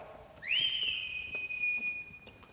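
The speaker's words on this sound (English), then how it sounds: "that was the last whistle." A ship's departure whistle in a stage musical set aboard an ocean liner sounds once as a long, loud, steady tone with a bright overtone, sustained for about two seconds with faint room noise beneath.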